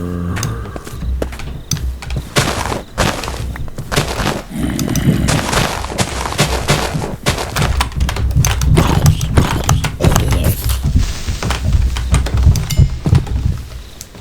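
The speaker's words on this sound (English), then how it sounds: "Someone stomping around." Heavy footsteps stomp around in the FTB Academy game, a loud, irregular run of thuds and knocks that continues throughout.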